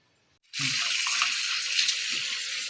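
Tap water suddenly gushes into a sink as octopus is rinsed, a steady bright rushing stream after a brief quiet moment, with faint splashing and handling underneath.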